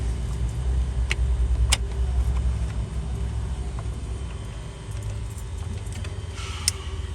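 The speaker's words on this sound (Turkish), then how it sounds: "Şimdi marş yapacağız arabaya." A car that starts in the morning and then stalls gives a low engine rumble with a few sharp clicks and a jangle of keys, heard close in a workshop setting with no talk.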